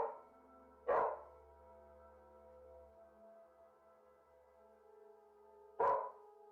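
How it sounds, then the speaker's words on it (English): Two sharp, echoing dog barks ring out several seconds apart, each trailing into a long reverberant decay in an otherwise quiet room. "the dog starts barking wildly while backing out of the bathroom"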